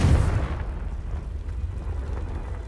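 A Confringo spell goes off in Hogwarts Legacy as a dull, rumbling explosion that booms at the start and then trails into a sustained low roar.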